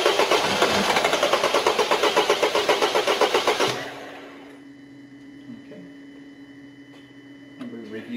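Diesel engine cranking without firing, one injector disconnected for a compression test: a steady rapid rhythmic churning of the starter for about four seconds that then stops, leaving a quiet hum.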